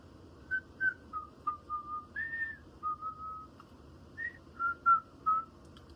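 A person whistles a short tune alone, a string of clear, fairly soft notes with brief gaps, some held and some quick, close to the listener.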